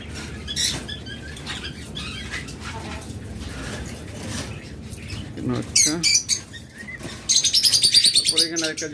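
Many small caged birds chirp and tweet busily nearby, with bursts of sharp calls and some fluttering, alongside occasional voices.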